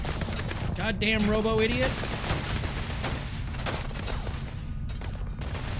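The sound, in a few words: gunfire from a video game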